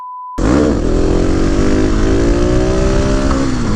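A loud Husqvarna 701 Supermoto liquid-cooled single-cylinder engine starts abruptly and holds a steady, throaty roar that rises slightly in pitch, running alone without speech.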